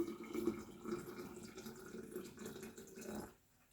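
Freshly boiled water is poured from close by over a black tea bag for kombucha, a soft continuous splashing stream that stops abruptly near the end.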